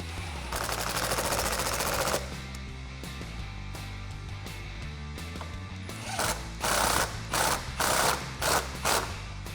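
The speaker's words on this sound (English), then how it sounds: "what I'm gonna do is tighten this down with the T40 Torx" A ratchet tightens a bolt with a T40 Torx bit while a Bestop Sunrider is fitted to a Jeep Wrangler JL hard top. Early on there is a fast, steady clicking run, and later come several short, loud bursts of ratchet clicks close by.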